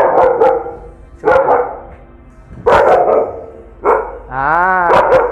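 American Bully dogs bark in loud, close bursts, several barks in clusters separated by short pauses, with a whining yelp near the end.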